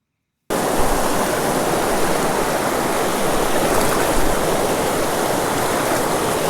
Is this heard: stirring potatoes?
no